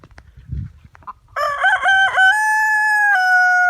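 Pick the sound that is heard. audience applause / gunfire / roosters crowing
roosters crowing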